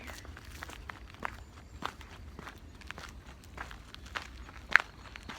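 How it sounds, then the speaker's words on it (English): Footsteps crunch along at an even walking pace, fairly close and distinct, with one sharper scuff near the end. "Have you ever noticed how loud some of us walk?"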